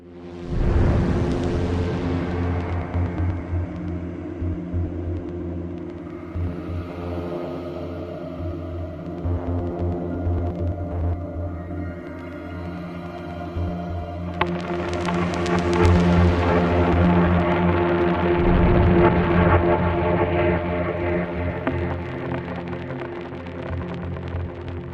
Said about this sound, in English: try to get an even bigger lightning explosion